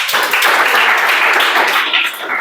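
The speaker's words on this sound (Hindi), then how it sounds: "चलो ताली बजावा।" A classroom of students claps hands together in a dense, loud burst of applause lasting a couple of seconds, close and continuous, with no talking over it.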